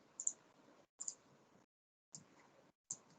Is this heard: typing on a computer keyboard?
yes